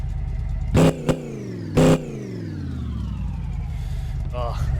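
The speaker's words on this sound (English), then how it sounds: "It's got to do blown 632 burnouts one more time." A supercharged 632 big-block car engine revs hard, then its pitch winds down slowly, close and loud, with two short bursts of shouting over it.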